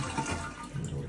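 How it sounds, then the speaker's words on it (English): A toilet flushes while its tank drains with the water supply shut off, making a close, continuous rushing gurgle of moving water that keeps an even level across the short stretch, with no speech. "then we're gonna flush the toilet"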